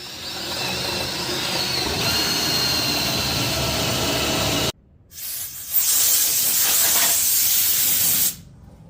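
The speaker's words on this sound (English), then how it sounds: "so we'll just drill our holes." A power drill bores holes through a piece of clamped wood, running as a steady, loud whine for several seconds, cutting off briefly, then starting again at full speed before stopping near the end.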